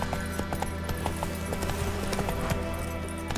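Horse hooves trotting in The Witcher 3: Wild Hunt, a steady rhythmic clip-clop of hoofbeats continuing throughout over ambient game sound.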